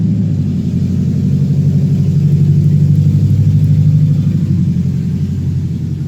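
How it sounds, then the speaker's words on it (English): A loud truck rumbles past close by, a heavy low engine drone that swells to its loudest midway and then eases off slightly, steady throughout the six seconds with no talking. "That was a loud truck."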